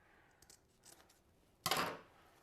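Scissors cutting material for a fall craft decoration: a few faint snips, then one loud, close, crisp cut that rings briefly and fades.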